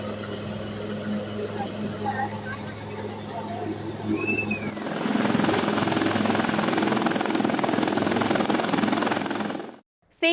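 Steady rotor drone of an army rescue helicopter during flooding from heavy rain, with a constant low rumble and hiss, loud and continuous, getting denser halfway through before cutting off near the end.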